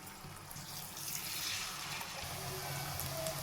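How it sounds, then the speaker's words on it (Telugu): Rice crackers (chekkalu) fry in a pan filled with hot oil, giving a soft, steady bubbling hiss that is faint and continuous, with no voices over it. "ఇలా ఆయిల్ నిండుగా వేసుకొని ఈ చక్కలని కాగేటట్టు చూసుకుందామండి"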